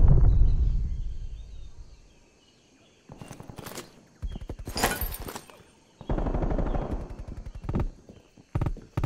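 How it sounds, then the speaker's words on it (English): Sentry turret gunfire in the video game Call of Duty: Black Ops Cold War: bursts of rapid shots come in clusters with brief gaps, loud and close, mixed with other battle noise. "Hostile sentry turret active."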